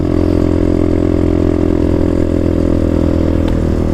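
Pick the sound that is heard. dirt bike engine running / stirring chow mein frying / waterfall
dirt bike engine running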